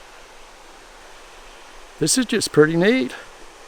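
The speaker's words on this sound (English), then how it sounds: "Stream making its way around it." A creek flowing around rhyolite rocks at a shut-in, a steady broad rushing hiss of water throughout, with someone speaking briefly over it near the end.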